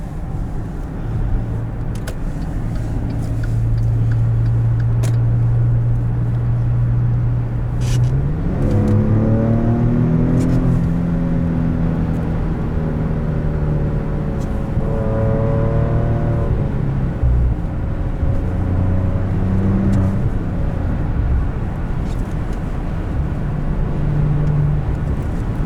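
A 2014 Maserati Ghibli, the standard non-S model, drones steadily from inside the cabin, its engine note climbing in pitch through gear changes as it accelerates, then settling into a low, even hum under continuous road noise.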